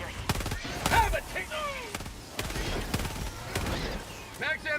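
Rapid gunfire bursts from a weapon being emptied in Helldivers 2, sharp repeated shots spread through the clip alongside voices and game effects.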